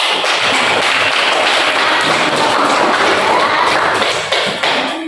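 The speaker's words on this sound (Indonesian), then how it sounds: "Untuk kita semua tepuk tangan" A classroom full of students breaks into loud, dense applause during a Qur'an and Hadith lesson, a continuous wash of clapping and thumping taps that carries on steadily with a few cheers mixed in.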